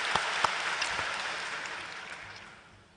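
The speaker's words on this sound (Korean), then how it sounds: "우리 하나님께 영광의 박수 드리겠습니다." Church congregation applauding to give glory to God at a night worship service, a burst of clapping that starts fairly full and slowly thins and fades over a few seconds, with no talk over it.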